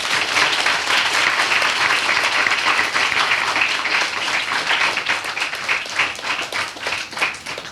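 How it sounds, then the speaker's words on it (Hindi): Loud, sustained applause from a crowd welcoming visiting students at an AICTE event in Delhi, a thick wash of many hands clapping that eases slightly toward the end. "और आपके लिए जोरदार तालियां बजाएंगे हम।"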